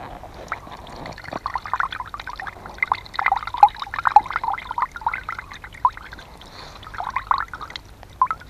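Water wrung out of wet clothing by hand outdoors trickles and splatters in uneven bursts, close and fairly clear, with soft dribbling between stronger pours and no talk.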